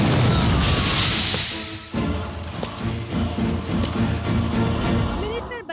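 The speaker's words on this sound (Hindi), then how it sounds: "पैर हटा, बम फटा।" A loud, sustained crash of a bomb blast at a farmhouse in a Hindi-dubbed action film, with booming impact followed by rumbling debris and clattering under a dense, roaring mix.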